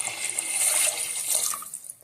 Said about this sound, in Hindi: तो अब हम इसमें पानी ऐड करेंगे